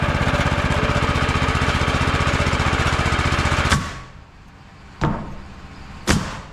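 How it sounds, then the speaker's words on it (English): An engine idling while powering an AC compressor rigged as an air compressor, a loud, close, rapid regular chugging that cuts off abruptly partway through, followed by near-silence and two sharp mechanical knocks. "I will just leave the engine idling this time"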